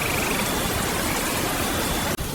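Steady rain pouring during a stormy Kalbaishakhi night in a Bengal village: dense, uniform hiss of rainfall, loud and unbroken apart from a brief dropout near the end, no voices.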